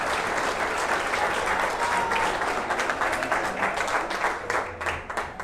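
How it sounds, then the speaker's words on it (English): An audience at a political talk in Conroe breaks into sustained, dense applause, many hands clapping together in a loud, even roar that tapers slightly toward the end. "Everyone's clapping and I didn't do anything funny."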